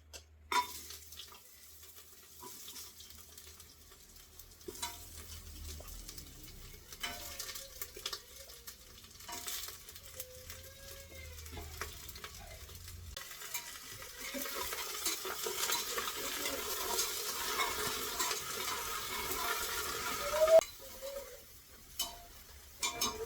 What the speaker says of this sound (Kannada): ಇದಕ್ಕೆ ಕಾಲ್ ಹಾಕಿ ಹುರ್ಕೋತೀನಿ.